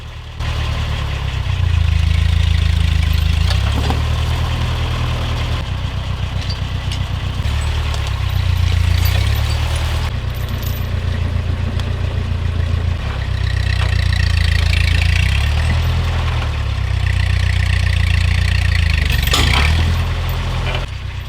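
A tractor engine runs steadily during log clearing on raw land, a loud, close, low rumbling drone that swells and eases as the load changes, with no talking.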